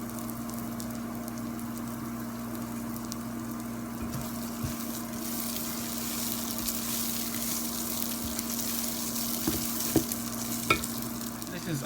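Brown rice toasting in a pan for pilaf, a soft, steady sizzle and crackle with occasional stirring scrapes and light clicks, faint and continuous with no talking.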